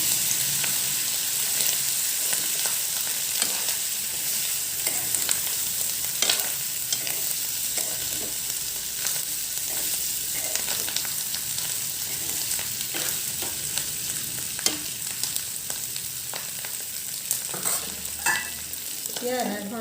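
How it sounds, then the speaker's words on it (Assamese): Fish roe fries in hot oil for an Assamese thali, giving a loud, steady crackling sizzle with repeated scraping and clinking as a spatula stirs it around the pan. "এতিয়া ইয়াতে মই মাছৰ ডিমখিনি ঢালি দিম।"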